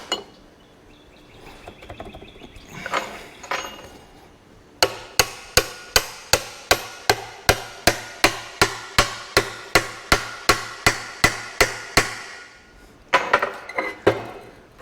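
A hammer strikes a metal arbor into a tractor brake drum in a workshop, a brisk run of about twenty sharp, ringing metallic blows at a steady rhythm, followed by a few more hits after a short pause.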